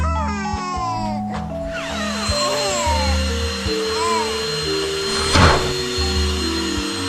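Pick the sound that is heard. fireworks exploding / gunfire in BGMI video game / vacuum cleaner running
vacuum cleaner running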